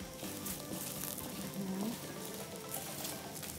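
Pumpkin seeds stirred in a hot pan give a faint, steady sizzle with soft rustling patter as they are moved around, quiet and continuous.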